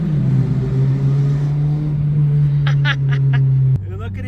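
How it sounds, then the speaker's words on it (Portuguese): A Renault Clio with a rotten, worn-out exhaust drives through a tunnel, giving a loud, steady low drone that holds throughout and then shifts down abruptly near the end, with a few faint chirps above it. "O escape tá podre. Passar por um túnelzinho aqui. Vamos testar o barulho do bicho."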